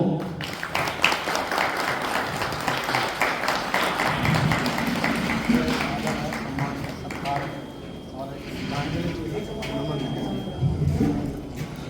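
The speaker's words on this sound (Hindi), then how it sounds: "एक बार जोरदार तालियां" Audience applause at the 46th foundation day ceremony of the 20 Kumaon Regiment in Haldwani, a dense, steady patter of clapping running throughout while a voice talks over it.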